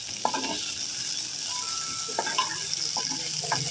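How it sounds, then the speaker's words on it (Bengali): Chopped onions and garlic frying in a pan, a steady close sizzle with occasional scraping stirs and clinks of the spoon, no voices. "আর ভালো করে আবার নাড়িয়ে নিচ্ছি রসুন পেঁয়াজ একসাথে মিশিয়ে"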